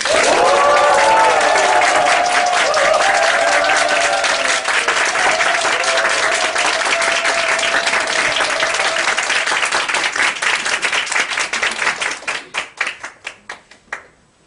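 Loud, dense applause from a small audience welcoming a speaker to the front, sustained for several seconds and then thinning into a few scattered claps before stopping; a voice is briefly heard early on.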